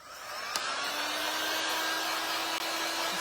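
A dryer blows steadily to dry wood stain, a loud continuous airy whoosh with a faint hum and a brief click near the start.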